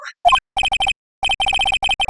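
A phone rings in Phoenix Wright: Ace Attorney, with a short chime followed by two bursts of rapid, bright electronic ring pulses separated by a brief silence.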